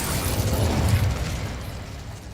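A fiery whooshing burst from the Incendio fire spell in Hogwarts Legacy, a broad roaring rush that swells then slowly fades over a couple of seconds.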